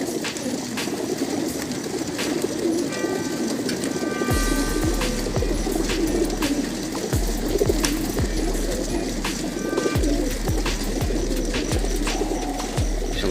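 Racing pigeons coo and flutter close by, mixed with wing flaps and scattered bird calls over a constant low rumble.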